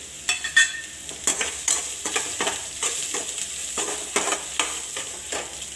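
Onions sautéing with turmeric in a pan for tamarind poha upma, with a steady sizzle under rhythmic stirring strokes and scrapes of a spatula, close and clear.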